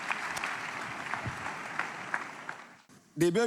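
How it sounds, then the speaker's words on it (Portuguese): A church congregation applauds, a steady wash of clapping that breaks off near the end as a voice begins speaking. "Então vamos dar mais uma salva de palmas ao nosso Senhor e Salvador Jesus Cristo?"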